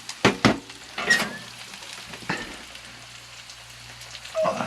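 Hot water, about 100 cc, hits a hot pan of frying Japanese gyoza with a few sharp splashing crackles, then settles into a softer sizzle and steam hiss, close by with no talking.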